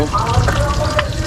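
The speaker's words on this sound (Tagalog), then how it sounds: "nagpiprito na ako." Steady, crackling sizzle of food frying in a hot pan in a home kitchen, loud and close, continuing without a break.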